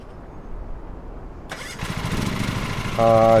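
Riding mower tractor engine starting in the Lawn Mowing Simulator video game, beginning with a whirring crank after quiet, then catching into a loud steady idle near the end.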